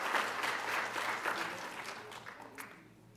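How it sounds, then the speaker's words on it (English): An audience at an annual medical conference at Yale applauds, a dense patter of clapping that starts strong and gradually thins out and fades over a few seconds. "let's give a round of applause there."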